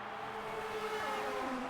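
An F1 car pulling out of the pits in a racing game, its engine a steady high whine that rises slightly in pitch, heard faintly and without talk.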